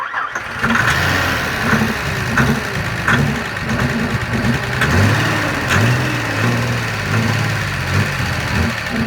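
Nissan 300ZX Z31 engine cranking, catching and running roughly for a few seconds, a loud uneven idle with sputtering bursts, no voices over it.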